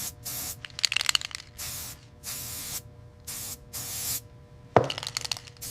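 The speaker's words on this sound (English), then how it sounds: "Then spray paint it silver." Several bursts of spray paint hissing from an aerosol can onto a PVC play button being coated silver, each spray lasting about a second with short pauses, plus a sharp crack near the end.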